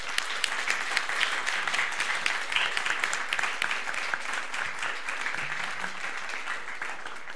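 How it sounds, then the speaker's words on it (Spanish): Sustained applause from a seated seminar audience fills the room, dense and steady clapping throughout with no voices standing out. "Les pido le demos un fuerte aplauso a cada todos."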